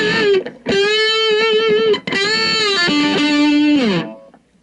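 An Oakcaster 18 HSS travel guitar plays loud, sustained distorted notes through an effects unit, giving a squealy tone in three long phrases with bending pitches, the last one sliding down and fading out.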